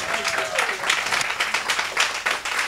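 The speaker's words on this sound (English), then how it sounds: "Give yourselves a round of applause" Audience applause fills a comedy club show in Brooklyn, a dense steady wash of clapping from a crowd, loud and close throughout with a host's voice faintly underneath.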